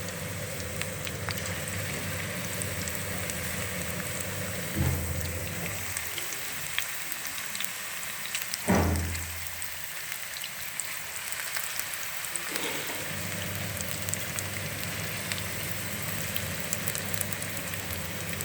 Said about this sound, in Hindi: ऑयल हमारा गर्म हो चुका है। अब हम इसमें अपना पकोड़े डालेंगे एक एक करके।